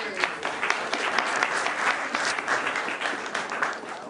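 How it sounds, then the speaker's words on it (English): Applause from a lecture audience welcomes a speaker at a talk on human effects on native species and ecosystems, a few seconds of steady, fairly close clapping. "Big round of applause."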